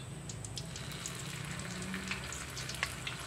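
Sliced bananas frying in hot oil for a Javanese snack, a steady close sizzle and crackle with small pops throughout, no talk.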